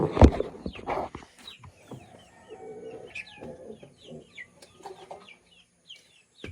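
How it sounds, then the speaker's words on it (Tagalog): Chickens cluck and murmur nearby in short, irregular bursts, with a few sharper calls and soft cooing in the background, no talking. "Nagpakain ako ng aking mga alagang manok."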